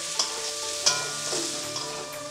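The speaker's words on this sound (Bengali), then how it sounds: "নেড়ে চেড়ে দিচ্ছি।" Potatoes fry with spices in a pan for small hilsa curry, a continuous close sizzle broken by a few sharp scraping clicks of a spatula stirring, no talking.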